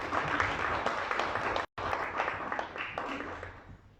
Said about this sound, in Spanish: Un aplauso para la Navidad.